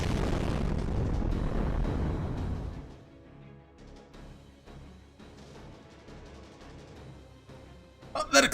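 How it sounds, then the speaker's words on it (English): Explosion at a castle keep in the Fate/Grand Order game, a heavy rumbling blast that dominates for a few seconds, then decays into a quieter stretch of low game sounds before a sharp closing hit. "that explosion came from the castle keep!"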